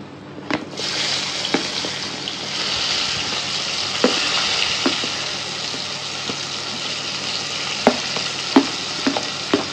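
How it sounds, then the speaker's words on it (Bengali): Sliced onions sizzle loudly in hot oil with melted sugar in a pan, a dense steady frying hiss broken by occasional clinks and scrapes of stirring. "এটা গোল্ডেন ব্রাউন যতক্ষণ না হবে ততক্ষণ ভাজবো"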